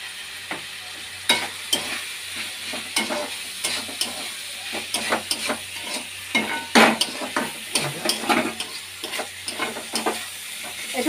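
Potato and bata fish curry with chili powder sizzles in a pan, steady frying hiss under frequent irregular scrapes and clinks of a spatula stirring through it, close and busy throughout.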